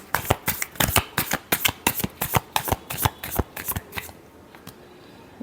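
Tarot deck being shuffled up close, a quick series of sharp, rhythmic riffling snaps that stop near the end, leaving a quiet pause.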